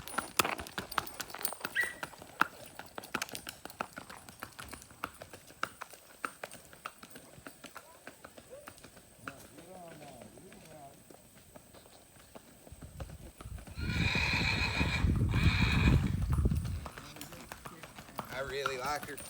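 A five-year-old sorrel and white paint mare, about 15 hands, is ridden with steady rhythmic hoof clip-clops throughout, a louder stretch of movement midway and a dog barking at times, while a person talks over it.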